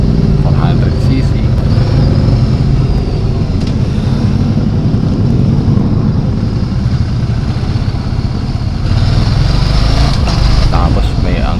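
A 400cc Ducati Scrambler motorcycle engine drones steadily during a test ride, a loud continuous hum mixed with wind rush and a slight swell in revs near the end.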